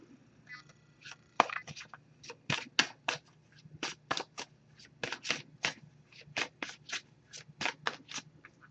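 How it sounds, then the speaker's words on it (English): A deck of Messages of Love oracle cards being shuffled by hand in a quiet room, giving a run of crisp riffling bursts in an irregular rhythm, close and clear with no talking. "So I'm going to give this a few shuffles."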